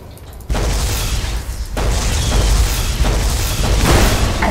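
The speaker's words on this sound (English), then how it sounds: "Let's test that Tesla cannon." A Tesla cannon, an energy weapon in the Fallout game set in the Mojave Wasteland, fires in loud booming bursts: a sharp onset followed by sustained roaring blasts with repeated punches over several seconds, no talking.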